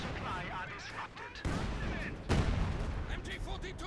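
Artillery barrage in the Company of Heroes 2 strategy game, with repeated booming shell impacts and gunfire layered over a continuous battlefield din while a commentator talks.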